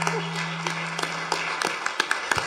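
Scattered applause from a town meeting audience, a thin, uneven patter of individual claps in a room, with a steady hum beneath and no clear talk over it.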